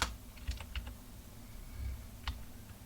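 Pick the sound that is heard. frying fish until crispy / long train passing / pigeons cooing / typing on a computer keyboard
typing on a computer keyboard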